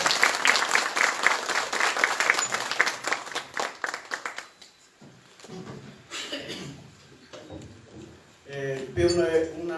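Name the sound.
audience applause for the speaker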